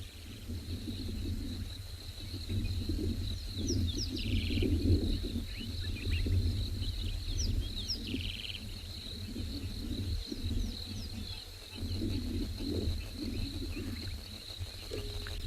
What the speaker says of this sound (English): I want you to listen to all the frogs that are calling around us